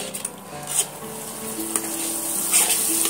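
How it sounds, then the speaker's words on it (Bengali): Spices and ginger-garlic paste sizzle in a pan for aloo dum biryani, a close, steady hiss broken by light scraping stirs and utensil taps, with no voices. "এবার আমি ভালো করে কষিয়ে নেব"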